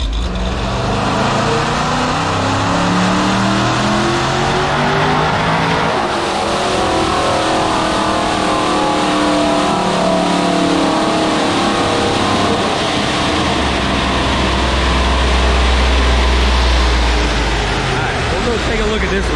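A ProCharged, cammed 5.7 Hemi R/T making 971 hp revs hard and loud on a dyno, the supercharged engine climbing through a long pull with a deep rising drone that swells near the end, voices faintly present under the roar.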